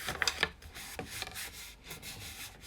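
Paper card being burnished down by hand while making a carousel card, a few soft close rubbing and scraping strokes in short bursts, quiet and without talk.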